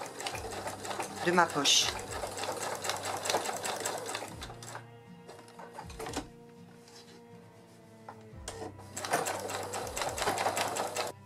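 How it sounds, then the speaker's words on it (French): A sewing machine stitches through an old jeans pocket, running in rapid mechanical bursts with brief pauses between them, close by, while someone speaks French over it. "Si jamais votre machine à coudre renacle un petit peu et ne veut pas passer là où il y a les rivets"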